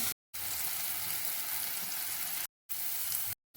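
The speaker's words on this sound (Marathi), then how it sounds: "फोडणी झाली आहे" Spice tempering sizzling hard in hot oil, a loud, dense, continuous frying hiss close up, broken by brief silent gaps, in a Konkani-style home kitchen.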